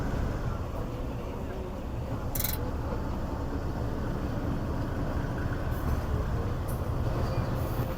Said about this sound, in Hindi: तो ये हमारी ट्रेन मेन लाइन से प्लेटफॉर्म नंबर 2 पर आ रही है झेलम रेलवे स्टेशन के।